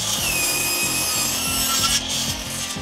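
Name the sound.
power saw cutting wood boards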